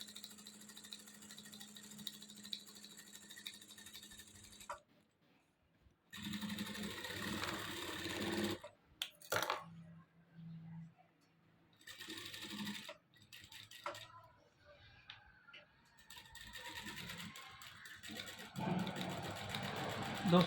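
An electric sewing machine stitches a fabric strip in several whirring runs separated by pauses, its hum and rapid needle rattle stopping and restarting close by.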